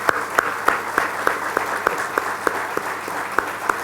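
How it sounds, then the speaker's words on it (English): An audience at an awards ceremony claps in a slow, even unison rhythm, loud sharp beats roughly three per second over a steady background of scattered hand claps. "Can we all stand up and clap hands in humility?"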